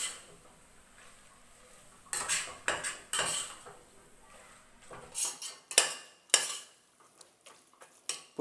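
Mint and coriander leaves sautéed in oil for beef biryani: a quiet pan background broken by bursts of metal utensil scraping and clattering against the pot, irregular and close, with only a faint sizzle.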